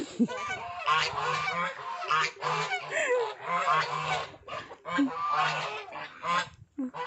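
Loud honking calls from several ducks, repeated in bursts close to the microphone, with a low rhythmic tapping underneath.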